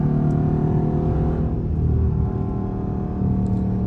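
A 400-horsepower Dodge Charger driving through a city at night, a steady low engine drone and road rumble heard from inside, with a slight dip and swell in pitch as it shifts speed.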